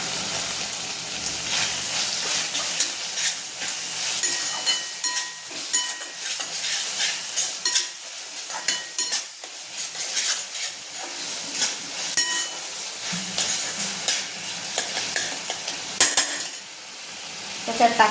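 Green chili and crushed garlic sizzle and fry in a pan for a Bharit Vang eggplant dish, a steady close crackle with scraping stirring and light utensil clinks throughout.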